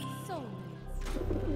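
Aphrodite's doves coo in the video game Smite, a short soft cooing burst mixed with in-game effects and faint background chatter.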